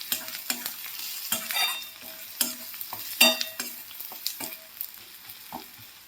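A spoon stirs chutney into fried onion and tomato in a pan for a bitter gourd dry curry, with repeated scraping strokes over a soft sizzle, close and steady.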